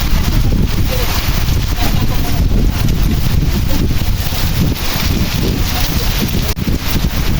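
Heavy rain driven by strong wind during an afternoon storm in the Pernambuco backcountry, a loud, steady broadband roar of downpour and gusts with no break throughout.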